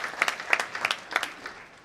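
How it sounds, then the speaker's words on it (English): Applause in a hall for a technical team at a correctional service week event, a short burst of scattered, moderately loud hand claps with uneven rhythm and no talking. "let's clap for them"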